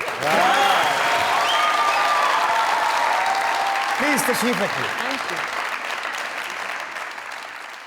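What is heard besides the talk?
studio audience applause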